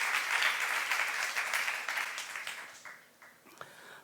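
A church youth congregation claps together during a sermon, dense applause filling the room and then thinning and fading toward the end.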